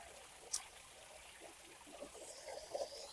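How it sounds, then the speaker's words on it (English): Gentle trickle of water from a plaster-built waterfall in a front yard garden, a soft continuous flow heard faintly at a distance with a few small splashes. "So I had them come, and they built this waterfall."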